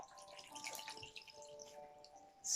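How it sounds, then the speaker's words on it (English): Eco flannel cloth dipped in a basin of water and squeezed out, soft close trickles and drips of water running off the fabric, quiet, ending in a brief splash. "squeezing the cloth,"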